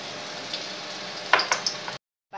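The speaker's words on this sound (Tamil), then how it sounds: "இதே மாதிரி வடை மாதிரி தட்டி தட்டி போட்டு பொரிச்சு எடுத்துருவோம்" Vadas frying in hot oil, a steady close sizzle broken by a few sharp pops and spatters as the pieces settle, cutting off abruptly near the end, with no talking.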